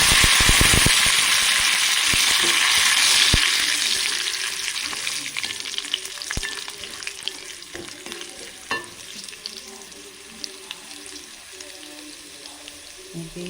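Curry leaves dropped into hot oil with fried onions for a coconut-based mackerel curry, crackling and sizzling loudly at first, then settling into a lighter spatter with scattered pops and occasional stirring clinks.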